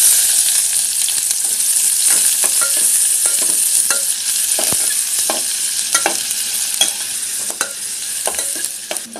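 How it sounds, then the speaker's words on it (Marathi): Garlic and onion frying in a pan for Konkani kulith pithi, a steady loud sizzle with repeated scraping stirs at irregular intervals, close and continuous. "लसूण अशी चांगली परतून घ्यायची। आणि आता कांदा घालूया।"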